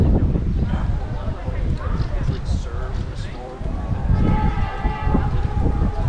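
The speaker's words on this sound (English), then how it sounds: "there's a train coming." A train rumbles into Pinhão station in Portugal's Douro valley with a low, steady roar and faint squeals, while people talk nearby over the noise.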